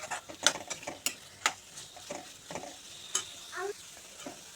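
Egg frying in a pan for fried rice, stirred with a utensil; a soft sizzle under sharp, irregular scraping and clinking strokes, close and without talk.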